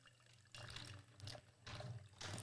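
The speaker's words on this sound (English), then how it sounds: "And this is the coffee going in right now." Coffee poured into an Ember Tumbler temperature-control travel mug, a faint liquid trickle that comes in three or four quiet bursts.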